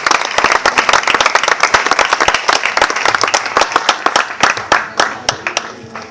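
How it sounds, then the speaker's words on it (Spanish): A church congregation at an evangelical service claps loudly and steadily for several seconds, a dense, fast patter of many hands. "Den un aplauso fuerte al Señor."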